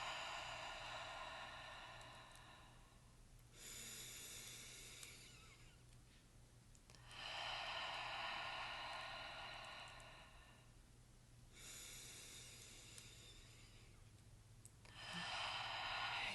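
Slow, deep breaths during a guided breathing exercise, long airy inhales and exhales alternating in a steady rhythm, quiet and close with no talking.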